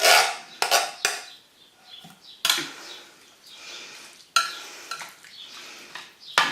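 Beef and bean hotpot stirred in a pan, with a spoon scraping and clinking against the metal in irregular close bursts, separated by brief quiet pauses.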